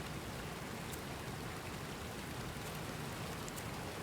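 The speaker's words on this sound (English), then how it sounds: "I didn't even question the rain ambient noises" Rain ambience in the video game Grimshire: a steady, even patter of rainfall, soft and continuous with no voices over it.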